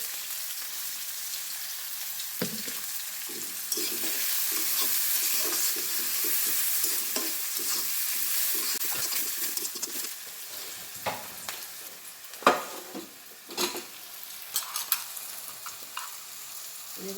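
Cabbage fries in hot oil in a pan with onion, a continuous close sizzle and crackle, with scraping stirs and sharper spatters toward the end, and no one speaking.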